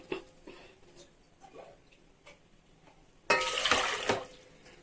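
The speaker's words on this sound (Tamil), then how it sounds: "தண்ணி ஃபஸ்ட்டு சேர்த்துக்கலாம்" Water pours in a steady burst into a pot while making drumstick and raw mango sambar, following a few quieter clinks and taps of cookware.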